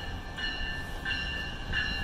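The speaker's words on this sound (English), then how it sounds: "Why are there so many trains heading south today?" A train rolls along tracks near a Chicago station, a faint steady rumble with thin high metallic squeals from the wheels rising and falling.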